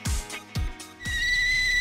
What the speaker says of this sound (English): When the kettle whistles like that,